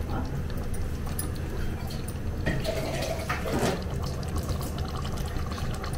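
Water pours steadily into a pot while preparing masala rice, a continuous splashing fill heard close up throughout, with some clattering partway through.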